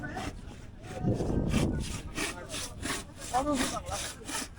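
A handsaw cuts wood while an old wooden riverboat is repaired at Sariakandi, giving a series of rhythmic rasping strokes close by, with a voice talking now and then.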